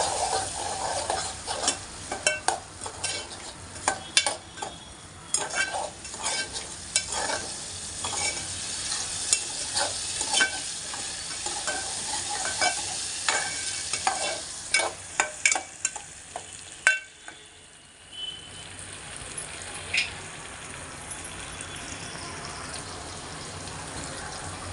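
Prawn curry masala is stirred in a pan, giving repeated close scraping and clattering strokes over a steady sizzle. The stirring is rhythmic for most of the time, then eases off to a quieter sizzle near the end, with no speech.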